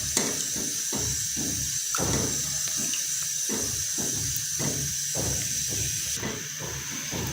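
Milk with two cardamom pods being stirred gently in a pan over a steady steamy hiss, with a spoon's rhythmic sweeping strokes repeating close by at an even pace.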